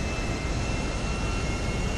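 In GTA Online, a steady, loud airplane engine drones as a constant roar with no breaks, and no one speaks over it.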